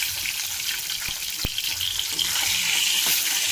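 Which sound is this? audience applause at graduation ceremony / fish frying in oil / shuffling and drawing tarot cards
fish frying in oil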